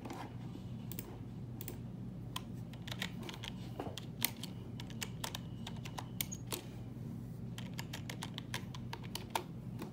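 Someone types steadily on an English-layout computer keyboard, sharp close clicks in uneven bursts over a constant low background hum, with no speech.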